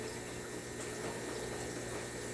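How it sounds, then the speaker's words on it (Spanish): Water steadily pours out of a container of tomato seeds being rinsed for seed saving, a continuous close splashing rush with no talk. "Nuevamente tirarle todo el agua"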